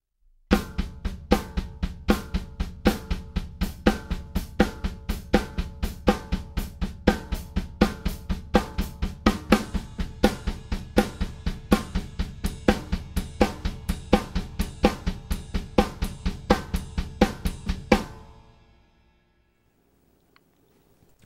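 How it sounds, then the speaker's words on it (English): Double bass drum exercise on a drum kit, with both kick drums landing together with the hand strokes in a steady, fast, even pattern for about eighteen seconds before stopping. "Okay, so we put the kick drum right with the hand."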